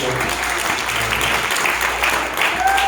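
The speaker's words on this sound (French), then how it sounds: "Balayez-nous un applaudissement si vous sentez bien." A church congregation breaks into steady, dense applause during a French-language sermon, sustained and loud throughout with a faint voice briefly over it.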